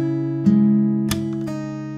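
Fingerstyle guitar pull-off on the second string of a song, a ringing chord that sustains as a new note is plucked and pulled off, clear and close.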